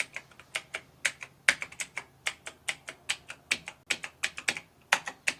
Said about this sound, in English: I am very good at typing.